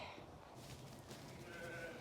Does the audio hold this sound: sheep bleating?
yes